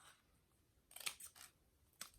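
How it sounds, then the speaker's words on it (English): Scissors snip through paper folded in half while cutting eye shapes for a Valentine's heart craft, a quiet cluster of crisp cuts followed by one more snip after a short pause. "I'm just gonna keep cutting out my eyes by folding the paper in half"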